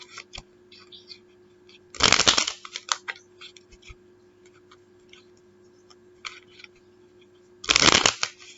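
Tarot cards being shuffled: two short, dense riffling bursts a few seconds apart, close and fairly loud against a quiet room with a low steady hum.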